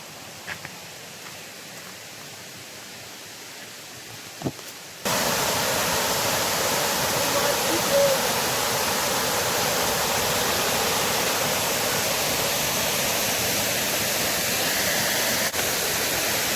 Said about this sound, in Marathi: पहा पहा ओझर धबधबा